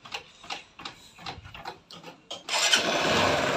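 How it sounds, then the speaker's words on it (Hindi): A Honda Shine motorcycle is kicked over several times with rhythmic mechanical ticking strokes, then the engine catches and settles into a steady, loud close idle. "तो सबसे पहले हम बाइक को स्टार्ट करके दिखा देते हैं इसका साउंड"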